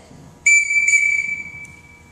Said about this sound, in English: two whistle blows, and that's going to give you the signal to collect your bows